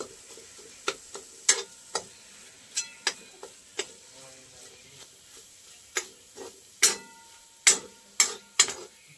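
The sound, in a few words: masala frying in oil over medium heat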